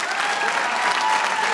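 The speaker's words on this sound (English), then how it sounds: "Can we have one more round of applause for our Pivot Fellows" A graduation audience applauds the program's graduating fellows with dense, steady clapping that continues throughout, loud and close, with a little crowd murmur mixed in.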